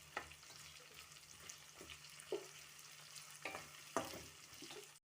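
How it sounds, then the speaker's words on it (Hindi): Roughly chopped medium onions fry and sizzle in a pan for a dhaba-style baingan bharta, with a steady hiss and recurring scrapes and clinks as they are stirred. "प्याज को थोड़ा सॉफ्ट होने तक भून लेंगे।"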